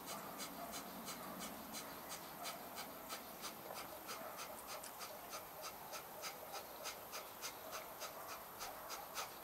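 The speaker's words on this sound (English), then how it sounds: "So, we have the active exhale, passive inhale." Breathing exercise with forceful active exhales and passive inhales: quick, rhythmic puffs of air repeat steadily about twice a second, soft and close, with no talking.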